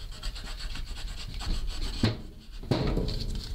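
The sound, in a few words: knife blade sawing through wood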